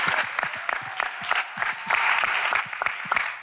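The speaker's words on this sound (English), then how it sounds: "Give them a round of applause." An audience at a young adults gathering claps in a steady, dense burst of applause, loud and close, with individual hand claps standing out throughout.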